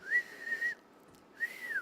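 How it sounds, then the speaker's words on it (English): A person whistles two short sustained notes, close and clear, separated by a brief pause, with nothing else heard. "I couldn't get my whistle out good enough."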